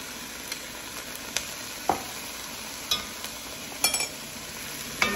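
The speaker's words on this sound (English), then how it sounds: "We're just going to kind of give these peas a chance to kind of saute in that onion and garlic flavor just a little bit." Black-eyed peas sauté with onion and garlic and a little oil in a pot, a soft continuous sizzle with scattered spoon scrapes and light clinks, close but fairly quiet, no voices.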